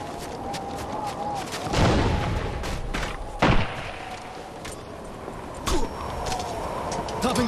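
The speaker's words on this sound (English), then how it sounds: "Flashbang out!" A flashbang grenade bursts in the tactical shooter Ghost Recon Future Soldier, a loud sharp blast standing out amid scattered gunfire-like thumps and cracks in a busy combat soundscape, with a voice calling out nearby.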